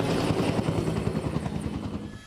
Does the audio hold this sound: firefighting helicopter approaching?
yes